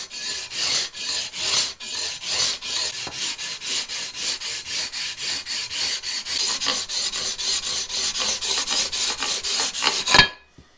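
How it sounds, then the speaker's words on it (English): A sanding beam with 220 and 320 grit paper is rubbed back and forth along guitar frets, giving a steady rhythmic rasp of about two strokes per second; close and fairly loud, ending in one sharper final scrape, with no talk. "So I'm just going to kind of give it a polish with the beam."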